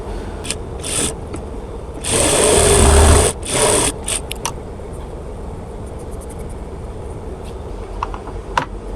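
A sewing machine stitches a child's frock in short bursts: rapid needle chatter starting and stopping, with one longer steady run of close mechanical whirring, no voices.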